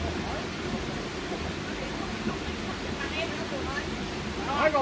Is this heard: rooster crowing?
no